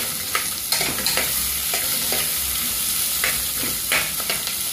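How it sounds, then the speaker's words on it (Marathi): Onion with red chili powder, turmeric, coriander powder and garam masala sizzles loudly in a pan while being stirred, giving a continuous frying hiss broken by repeated scrapes of the spoon. "आता हे जरा लाल होईपर्यंत चांगले परतून घ्यायचं"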